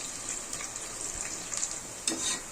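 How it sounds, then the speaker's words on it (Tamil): Onions and green chillies frying in hot oil for prawn biryani, a soft steady sizzle close by with a sharper burst near the end, no talking. "இப்போ நல்லா காஞ்சிருக்க எண்ணெயில் பச்சை மிளகாவும் வெங்காயமும் சேர்த்துக்க போகிறோம்"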